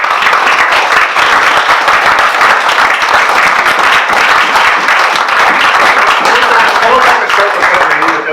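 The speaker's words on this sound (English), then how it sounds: "So big clap for Rory" An audience applauds Rory Best, a retired rugby player, at a club's centenary launch evening; dense, steady clapping from a full room fills the whole stretch at high volume without a break.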